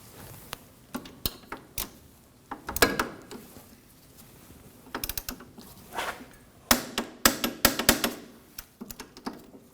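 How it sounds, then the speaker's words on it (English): A torque wrench tightens front brake caliper bracket bolts on a 1993-2001 Subaru Impreza, making bursts of sharp, rapid ratcheting clicks separated by short pauses, close and clear with no talking. "Now we can go ahead and torque our bracket bolts to 58 foot-pounds"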